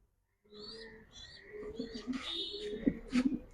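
Pigeons at a racing and high-flyer loft give soft, close coos and short calls among faint rustling and background noise.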